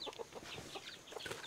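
Chickens cluck in repeated short bursts at a rural Vietnamese farm, several birds nearby, fairly faint, with no talk over them.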